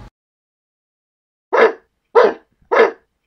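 Three sharp, loud barks from a dog in a Lego stop-motion animation, close by and evenly spaced after a short silence.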